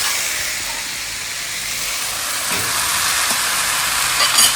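Okra frying in a hot pan gives a steady, loud broadband sizzle and hiss that carries on without a break and swells a little toward the end, with no talking.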